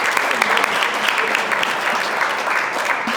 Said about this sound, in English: Let's give Mark a big round of applause